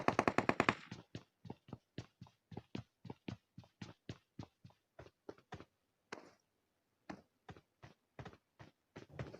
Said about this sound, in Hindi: मुझे मिडिल से फायरिंग आ रहा होता है